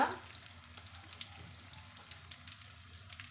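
Shallots and curry leaves frying in oil for a red okra kuzhambu, a quiet, low-level sizzle with a sharper burst at the start, heard briefly and alone.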